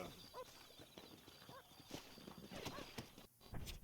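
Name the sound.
horse galloping in video game Red Dead Redemption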